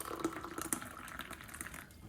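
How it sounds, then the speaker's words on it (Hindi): Boiling hot water is poured into a cup of instant black coffee, giving a short, bubbly splashing stream that is moderately close and has no talking over it. "उसमें गरम गरम खौलता हुआ पानी डालते हैं"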